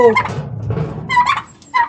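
Chickens close by give a few quick, warbling clucks and gobbles in short bursts, with brief quiet gaps between calls.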